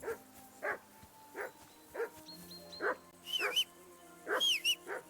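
Dog barking in the video game Kingdom Come Deliverance 2, a run of about seven short, fairly close woofs in a loose rhythm, with higher yelps mixed in toward the end over quiet background ambience.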